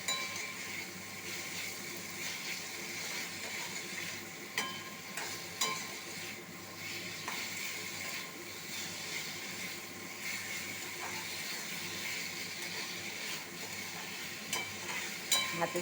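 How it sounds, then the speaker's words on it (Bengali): Fried okra is stir-fried with spice masala in a pan, a continuous close sizzle and hiss with frequent scraping and clinking strokes of a spatula at irregular intervals throughout. "মশলাটা একটু ভাজা ভাজা হয়ে গেলেই এই যে ভেন্ডি ভাজাটা দিয়ে দেবো।"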